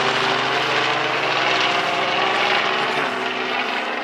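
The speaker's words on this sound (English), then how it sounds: "You almost never see a helicopter fly over here" A steady, broad whirring drone of a helicopter flying overhead above Clingmans Dome, constant and fairly loud, with no talking.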